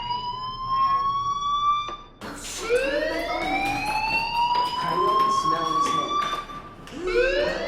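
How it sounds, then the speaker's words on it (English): A fire alarm in the video game Life is Strange wails in repeated rising electronic tones, loud and close, with short breaks between the sweeps. "Hey, do you hear that fire alarm?"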